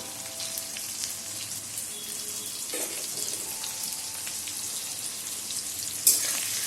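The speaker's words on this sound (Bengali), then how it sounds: "তারপরে এটা ভালো করে নেড়ে পেঁপেটা লাল লাল হওয়া পর্যন্ত ভাজতে হবে।" Papaya with salt and turmeric frying in a pan, giving a steady close sizzle with faint crackles throughout and one brief sharp clink near the end.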